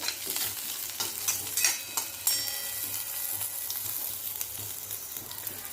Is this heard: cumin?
yes